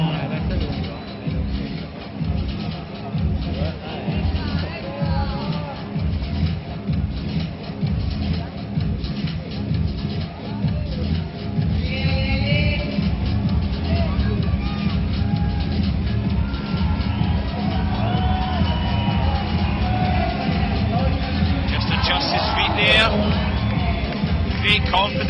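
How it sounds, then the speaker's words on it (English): Crowd at the 2011 Climbing World Championship lead final in Arco, Italy, cheering and yelling for a climber, a steady roar of voices and shouts that swells and continues throughout. "Come on, Ramon, the cry from the crowd"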